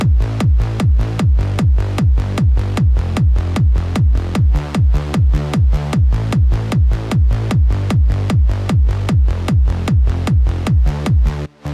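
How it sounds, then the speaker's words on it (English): A punchy, deep trance kick thumps in a steady four-on-the-floor pulse with a rolling bass underneath, loud and continuous, ending with a brief dropout. "we have a very punchy, deep trance kick and we have 2 bass layers here"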